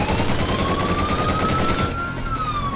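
Sustained automatic gunfire aimed at police in the video game Binary Domain, a dense rapid rattle of shots, loud and close, with a rising electronic whine over the top.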